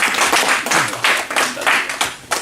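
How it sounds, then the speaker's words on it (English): A small group in a psychology clinic session claps in short uneven bursts, close and fairly loud, the clapping brief and scattered rather than a full ovation. "Round of applause, please."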